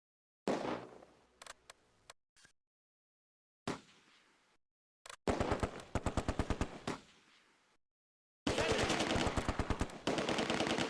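Bursts of gunfire in the WWII tactical game Close Combat: A Bridge Too Far during a Polish airborne landing at Market Garden: loud rapid machine-gun strings and scattered single shots, separated by short silences.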